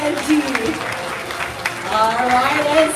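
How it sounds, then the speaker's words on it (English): Visitors at Singapore Zoo give a round of applause for Benji, the clapping of a crowd running steadily throughout while a voice talks over it. "Let's give a round of applause to Benji over here."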